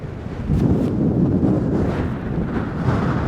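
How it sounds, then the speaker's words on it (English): Strong wind in a snowy outdoor setting buffets the microphone in a loud, continuous roar with gusting surges throughout. "Sorry it's so windy"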